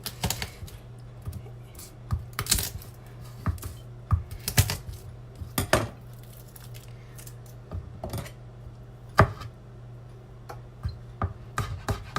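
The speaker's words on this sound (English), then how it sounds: "So here we have 3 garlics, and I'm gonna chop them, I'm gonna dice them." Garlic cloves are chopped and diced with a knife on a board, a steady series of sharp close taps and clicks at an uneven pace, with no talking.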